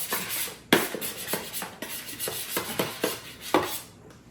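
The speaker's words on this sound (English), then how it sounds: "be easier to tip it upside down and scrape this out" Pizza dough is scraped out of a Gozney dough tray, giving a series of short rasping scrapes at an irregular rhythm, close and moderately loud, with no talking.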